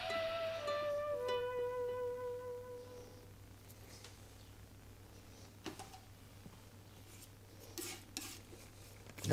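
A palette knife works blue and white paint together for a painted scene of rocks. It gives faint, scattered scrapes and taps against a quiet background.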